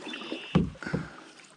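A canoe paddled with a Canadian stroke through lily pads: two close, splashy paddle pulls through the water, followed by a quiet trickle and drip.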